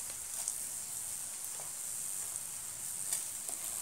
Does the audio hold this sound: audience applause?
no